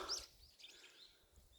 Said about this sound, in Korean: 새소리 들리기 좋죠